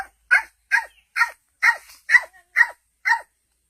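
A man imitates the yelping call of a zorra patona fox, voicing seven short sharp barks at an even rhythm, close and clear against silence.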